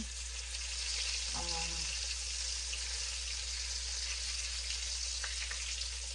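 A jalapeño frying in a pan gives a steady, soft sizzling hiss that runs throughout, fairly quiet and close, with a low hum underneath and no talking.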